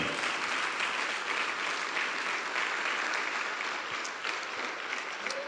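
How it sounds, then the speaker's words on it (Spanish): A church congregation claps as an offering of applause to the Lord, sustained, even clapping from many hands, fairly loud and steady, with little speech over it. "Démosle una ofrenda de palmas al Señor"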